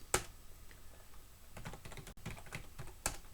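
Quiet keystrokes on a computer keyboard at a Linux bash prompt, a short irregular burst of taps with a sharper click at the start and end.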